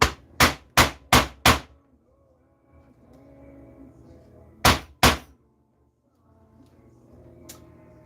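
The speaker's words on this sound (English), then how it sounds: "So I just need to punch out these holes." Hammer blows driving a hole punch through leather for a stitchless wallet: a quick run of five sharp, loud strikes, a pause with faint room noise, then two more strikes close by.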